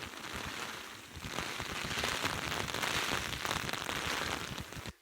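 Rain falls onto a tent in a dense, close patter of drops that stays steady and fairly loud throughout, with no voices.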